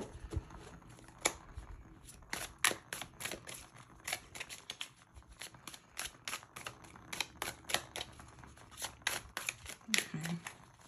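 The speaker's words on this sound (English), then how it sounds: "I'm just gonna shuffle these one more time." Quiet, close-up shuffling of a tarot deck, a run of soft riffling snaps and papery flicks in irregular bursts.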